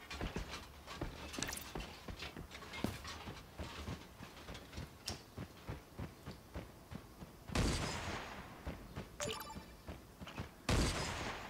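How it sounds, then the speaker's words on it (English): Gunfire in the battle royale video game Creative Destruction: rapid, fairly quiet bursts of repeated shots and footsteps, with a few louder blasts and impacts toward the end, no talk. "Someone else is shooting at him."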